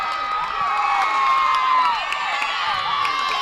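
A crowd at a junior college softball championship game cheers loudly and steadily after a home run, with high shouts and whoops layered over a sustained roar.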